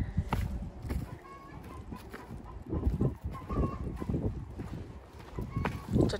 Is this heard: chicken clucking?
yes